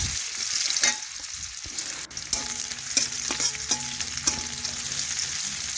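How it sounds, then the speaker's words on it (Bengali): Chopped onion sizzling and frying in a pan while being stirred, with steady crackle, scraping strokes and clinks of a utensil against the pan, close and fairly loud, no talking. "এখন পেঁয়াজ একটু নাড়াচাড়া করে একটু ভেজে নিচ্ছি"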